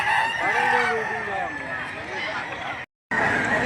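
Roosters crow and chickens cluck at the Lipa livestock auction market, a loud drawn-out crow up close over a busy background of other fowl and murmuring voices.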